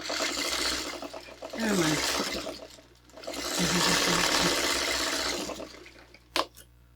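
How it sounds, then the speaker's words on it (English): Close-up whirr of a sewing machine stitching down loose pieces of a quilt block, running in two steady bursts separated by a short pause and ending with a sharp click. "I'm going to sew the loose bits on here, just like so"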